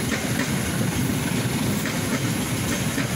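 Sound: Sancaka passenger train, CC201 locomotive, stainless steel carriages, passing

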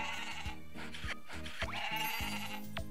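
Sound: goats bleating while being milked, Story of Seasons video game

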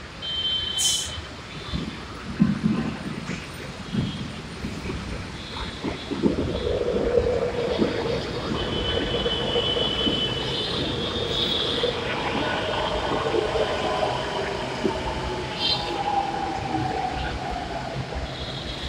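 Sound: metro train arriving

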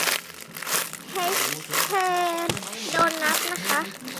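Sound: tearing open plastic parcel packaging

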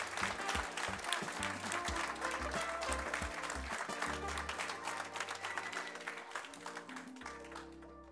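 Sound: ovation applause for jury president at chef competition

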